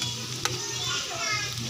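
Kikiam sautéing in a pan for guisado sotanghon, with a dense, even sizzle, one quick stirring clink, and faint children's voices far in the background.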